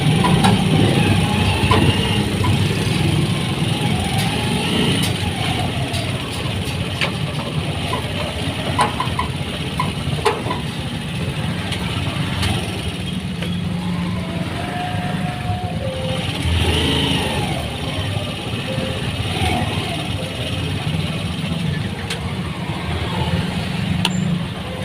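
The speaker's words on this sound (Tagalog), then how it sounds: "mabilis naman yung takbo ng mga motor dito" Motorcycles and other traffic passing quickly on a road in Obando, a continuous engine drone with rising and fading passes, fairly near and steady throughout.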